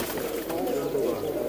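Pigeons in a net enclosure coo softly and repeatedly at close range amid background noise.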